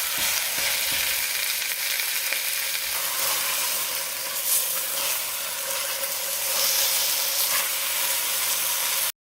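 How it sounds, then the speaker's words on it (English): A chuck roast sears in olive oil in a Dutch oven over high heat, a loud, steady crackling sizzle that runs without a break until it cuts off abruptly at the end. "And do you hear that sizzle, that sound?"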